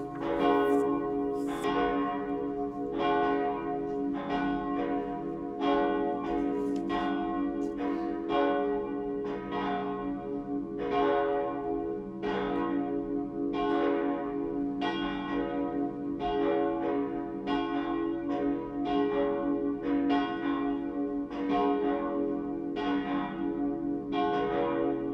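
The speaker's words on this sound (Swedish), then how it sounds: "Låt oss nu lyssna till klockringningen." Church bells ring at a cathedral on Candlemas Day, a long, steady peal of repeated resonant strikes with ringing overtones, loud and continuous with no voices.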